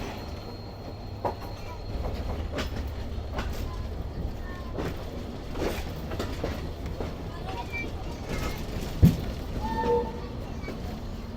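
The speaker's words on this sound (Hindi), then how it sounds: "ये घूम गई है जी हमारी ट्रेन प्लेटफॉर्म नंबर 3 की तरफ।" A passenger train rolls into Hyderabad Junction toward platform 3, a steady low rumble of wheels and carriages with faint clickety-clack and a brief squeal near the end, under an ongoing murmur of voices.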